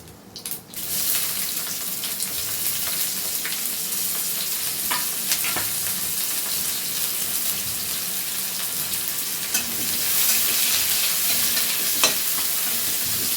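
Onions frying in a pan with tempering spices and dried red chillies, a dense, loud, continuous sizzle with occasional crackles, steady from start to finish with no talking.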